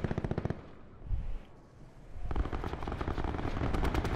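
Saug submachine gun fire in a video game: a rapid burst of close, loud shots, then a pause, then a longer sustained stream of rapid fire.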